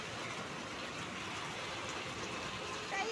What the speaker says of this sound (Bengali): আমাদের আজকে 2টো দিকে কত জোরসে দারুণ বৃষ্টি হচ্ছে